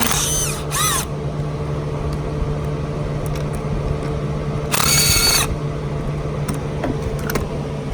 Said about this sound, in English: Now taking a 7mm, we loosen the 3 screws.